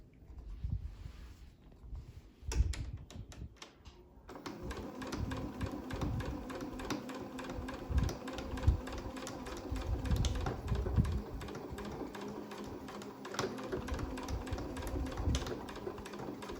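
Sewing machine stitching a fabric medical mask with elastic ear loops, running in a steady rapid mechanical patter with short pauses and restarts, close and moderately loud, with no talk.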